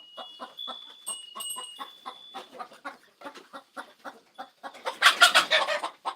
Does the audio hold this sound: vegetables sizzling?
no